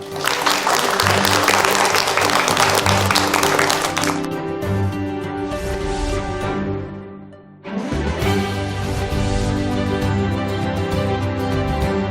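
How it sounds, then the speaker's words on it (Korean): A studio audience claps after a televised lecture, sustained loud applause through the first four seconds that then thins and gives way to soft background tones. "김상욱 교수님한테 박수 보내드리면서 오늘 강연은 여기서 마치도록 하겠습니다."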